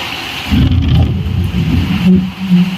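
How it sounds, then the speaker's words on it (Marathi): Steady rain hissing down during a sudden storm, with a low, rolling rumble underneath like distant thunder, continuous throughout with no voices. "इकडून सगळा पाऊस येतो आणि मग भिजायला लागतं"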